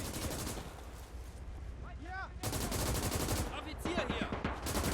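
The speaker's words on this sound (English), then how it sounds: "MG-34 firing here. Beautiful to see." MG-34 machine gun fire in the WWII Eastern Front mod of the game Call to Arms: dense rapid bursts that grow into sustained rattling, with a brief shouted voice in the middle.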